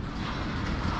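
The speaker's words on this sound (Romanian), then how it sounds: "zeci de vagoane are trenul ăsta" A long freight train with dozens of wagons carrying new cars rolls past at steady volume, its wheel rumble and clatter filling the moment with no voices.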